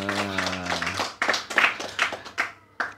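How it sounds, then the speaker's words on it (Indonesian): A seminar audience gives brief, scattered hand claps that start as a voice trails off. Only a few distinct claps land, spaced unevenly, rather than sustained applause. "Tepuk tangan dulu dong."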